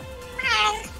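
A house cat named Réglisse gives a single close, clear meow lasting about half a second, recorded right at the microphone with only faint background hum around it.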